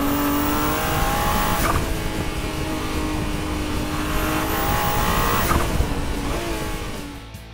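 A Ferrari 296 GTB sports car with a V6 engine drives past, its engine roaring loudly and steadily with rising and falling revs and faint tire noise, close and without speech.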